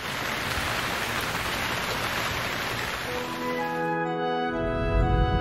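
Steady rain falls hard on a surface in Monza, a dense continuous hiss that holds throughout, with a tonal hum rising near the end.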